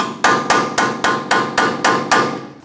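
A hammer striking a chisel to raise a ball joint sleeve on a Ford E-350, with eight loud, evenly spaced metallic blows in quick rhythm, close up, each ringing briefly.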